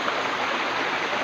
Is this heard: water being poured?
yes